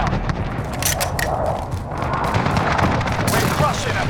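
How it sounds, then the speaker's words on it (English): Precision airstrike explosions in Call of Duty Modern Warfare (2019) rumble as a steady, heavy barrage of booms and crackling blasts that roll on without pause for several seconds. "Be advised, friendly precision airstrike inbound."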